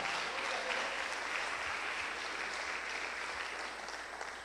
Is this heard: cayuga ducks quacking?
no